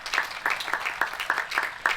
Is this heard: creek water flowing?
no